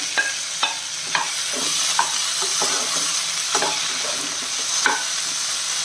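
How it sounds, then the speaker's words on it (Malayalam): Two chopped medium tomatoes are sautéed in a pan for a breadfruit curry, with a bright, steady sizzle broken by periodic scraping and tapping of the stirring spoon. "അതും കൂടെ ചേർത്തിട്ട് നല്ലപോലെ ഒന്ന് വഴറ്റി കൊടുക്കും"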